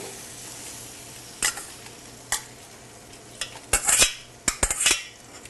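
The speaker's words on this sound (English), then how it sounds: "And now the sauerkraut goes in right on top." Sauerkraut goes into a pot with stock, with a low simmer underneath while several sharp scrapes and clinks of a utensil against the pot land in irregular bursts, busiest toward the end.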